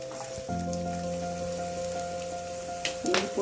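Ginger and garlic sizzle in hot oil as they are added, a steady crackling hiss over a low hum, ending in a brief louder burst of frying.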